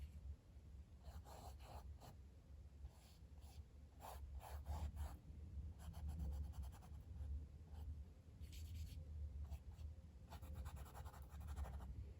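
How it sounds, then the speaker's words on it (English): A paintbrush scrubs acrylic paint onto canvas in quick, faint bristly bursts, with short rapid strokes coming in clusters and pauses between them, close but quiet over a low room hum. "I'm just trying to really scrub in there with my brush to get the canvas covered so I don't have the white showing through"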